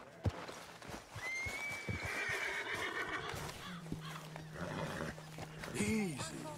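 Horse whinnying and hooves clip-clopping in the video game Red Dead Redemption 2, a high drawn-out neigh followed by snorts, shuffling hooves and a final short whinny, with ambient game sounds underneath.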